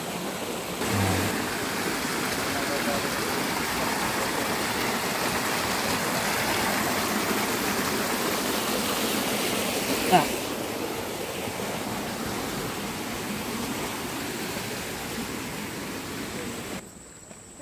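Water rushes steadily at a farm resort, a broad constant hiss of flowing water that holds even for most of the time. A single sharp knock comes partway through, and the sound drops off abruptly at the end.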